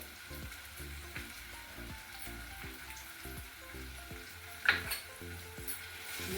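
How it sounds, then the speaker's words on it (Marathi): Masala spice mix with red chili powder and salt sautéing in a pan for Malvani fish curry, a soft steady sizzle with periodic scraping strokes of a spatula and one brief sharper clink near the end. "परतून घ्यायचं आहे"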